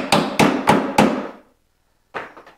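A rivet nut being tapped with a hammer into a drilled hole for a removable snowflap: four sharp, evenly spaced metallic blows, then a pause and a lighter flurry of taps, close and loud.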